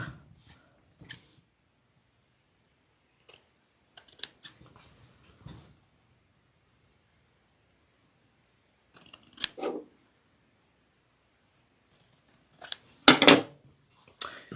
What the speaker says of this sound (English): at this point I'm going to snip off the corners